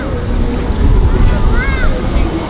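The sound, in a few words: strong wind blowing outdoors in London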